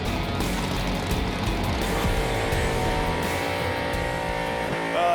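A VN Commodore's engine revs hard on the burnout pad, a dense, loud, sustained roar with tire noise, dropping slightly in pitch before climbing back up, with no voices over it.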